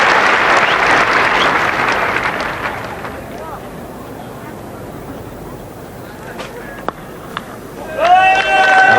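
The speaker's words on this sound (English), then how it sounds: "a very relieved cheer from all his fans around this Old Trafford ground" A large cricket crowd at Old Trafford during a 1981 Ashes Test applauds and cheers loudly, a dense roar of clapping that gradually fades, with a fresh swell of cheering and whistles near the end.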